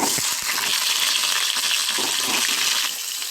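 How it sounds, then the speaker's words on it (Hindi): Potatoes fry in oil in a kadai, making a steady, dense sizzle that stays loud and close throughout with no talk. "पहले कढ़ाई में ऑयल ले लेंगे, उसके बाद हम आलू पकाएंगे, इसको अच्छे से भाजेंगे"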